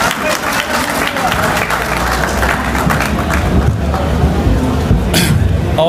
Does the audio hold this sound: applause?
yes